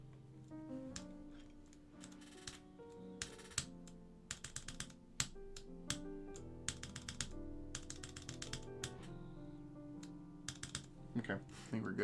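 Backspace key being tested on a full-size mechanical keyboard with Alps SKCM Black switches, a run of crisp clacky keystrokes in uneven bursts, some rapid repeated presses, close and fairly quiet, with faint talk at times.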